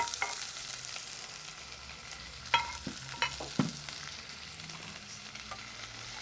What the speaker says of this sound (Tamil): கடுகு போடுவோம். வெங்காயம், கருவேப்பிலை, ரம்பை, பச்சை மிளகாய் இவ்வளோத்தையும் போடுவோம்.